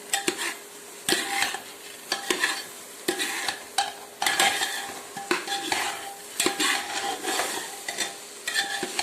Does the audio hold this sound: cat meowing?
no